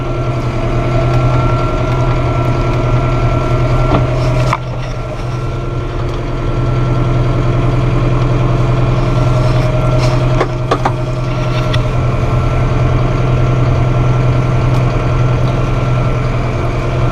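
Massey Ferguson 5713S mid-range tractor engine running steadily, a loud constant low diesel drone with a brief dip in tone partway through and faint mechanical clicks, no talking.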